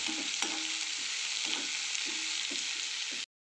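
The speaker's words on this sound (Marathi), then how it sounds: "बघताय आपण आपली कोबी मस्त फ्राय होती." Cabbage frying gently over a low flame in a pan, a steady broadband sizzle with soft periodic stirring scrapes, alone without talk, cutting off abruptly at the end.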